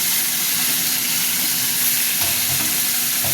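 Two fish heads sizzle and crackle steadily in hot oil, a dense continuous frying hiss up close with small pops throughout.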